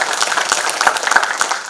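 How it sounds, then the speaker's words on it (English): A brief burst of audience applause at an Odia language and identity conclave at BHU, dense and steady clapping from a seated crowd. "put your hands together for a huge round of applause"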